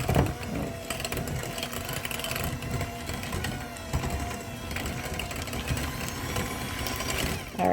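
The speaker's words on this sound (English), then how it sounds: "we'll just use the handy dandy mixer to mash them up" An electric hand mixer mashes bananas for banana cookies and bread, giving a steady, continuous motor whir with a rattling mechanical texture that runs loud and close for several seconds without talk.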